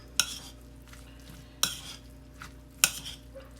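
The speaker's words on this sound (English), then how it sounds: "And then you just stir it up." A spoon works through a mayonnaise mixture in a bowl, with three sharp clinks against the bowl at roughly even intervals over a soft, steady scraping; close and moderately loud, with no talking.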